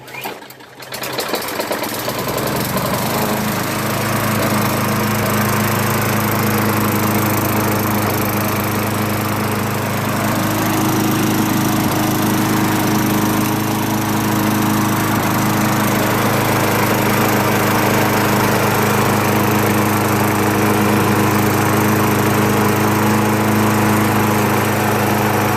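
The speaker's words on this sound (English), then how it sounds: "the engine started up with a couple pulls" A Craftsman Eager front self-propelled lawn mower with a Tecumseh engine starts and then runs steadily, a loud, close, continuous buzzing drone that holds an even idle for the rest of the clip without pause.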